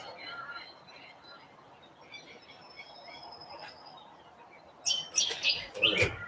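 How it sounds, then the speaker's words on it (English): Bird song rings out in the background, thin high chirps and a few trills that grow brighter and louder near the end, with a person talking over it. "Lots of bird song."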